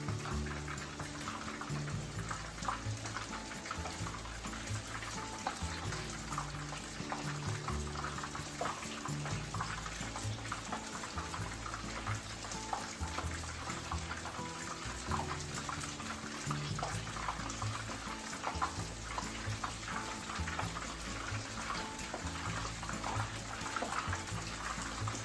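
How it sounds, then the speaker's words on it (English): Maitake mushroom tempura frying in oil, a constant soft bubbling hiss running evenly and fairly faint throughout, with no speech. "fry them for 1 minute on each side"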